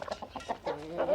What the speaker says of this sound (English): "Cluck, cluck," said the hen, and scuttled away.